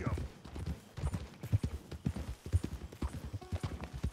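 A horse gallops in Red Dead Redemption 2, its hooves beating a quick, even clip-clop rhythm that stays close and clear throughout.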